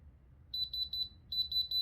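A diamond tester checking earrings gives out faint, high-pitched beeps in two evenly spaced groups of four, quiet against a low background hum.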